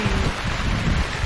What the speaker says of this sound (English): Just on cue, here comes the rain!